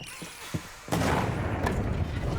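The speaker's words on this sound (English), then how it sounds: "I just hit a mine." A train in the video game Voidtrain hits a mine, setting off a sudden loud boom that holds as a rumbling blast, after a few soft thuds and clicks.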